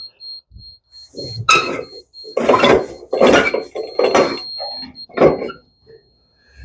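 A faint, high electronic beep from a laser level receiver repeats in short pulses during concrete slab formwork, partly buried under louder bursts of knocking and handling noise.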